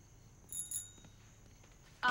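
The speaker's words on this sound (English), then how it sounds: "will you cut it out with that stupid bell?" A small bell rings in a couple of quick faint strikes in a quiet room, followed by a louder, sharper ring at the very end.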